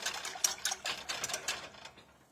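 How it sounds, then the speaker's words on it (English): Small mini whisk stirring a cornstarch mixture in a bowl, giving a quick, rhythmic run of light scraping and clicking strokes against the sides, close and fairly soft, fading out near the end with no talk. "Use a whisk. This is our little mini whisk to get all that dissolved up good."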